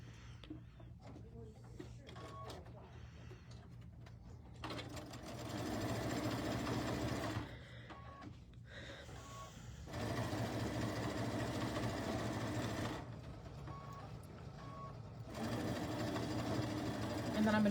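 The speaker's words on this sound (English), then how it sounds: "we're just going to sew them together." A domestic sewing machine stitching quilt pieces together, its fast mechanical whirr running in several bursts of a few seconds with quiet pauses between them, close and moderately loud.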